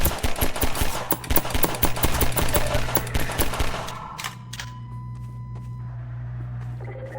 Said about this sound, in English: all the gunfire and all the sounds from the Combine